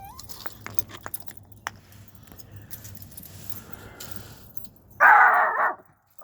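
A dog outdoors in a park gives one loud, close bark burst near the end, following quieter rustling and jangling keys.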